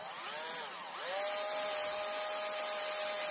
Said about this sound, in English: then we're going to drill for the dowels